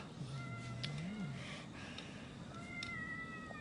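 A cat meows a few times, drawn-out and fairly faint, over a steady low background hum.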